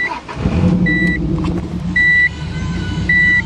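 A Subaru Legacy's 2.5 liter boxer engine runs with a steady low rumble close by, while a short electronic beep sounds three times over it.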